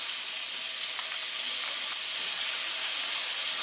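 Olive oil sizzling in a hot pan while cooking Cajun chicken, a steady close-up hiss and crackle that holds evenly throughout with one small pop near the middle.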